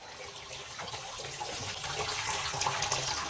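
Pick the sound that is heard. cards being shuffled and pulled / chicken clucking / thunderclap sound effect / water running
water running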